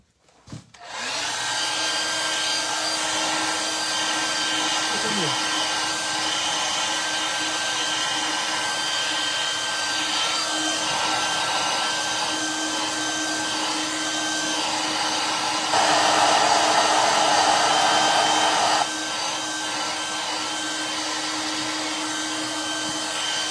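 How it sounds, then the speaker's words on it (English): A hair dryer blows steadily over wet paint on a winter-scene painting, a close, continuous whooshing drone that holds for over twenty seconds and briefly rises in pitch and loudness partway through, with no speech. "And then I'll just blow dry real quick."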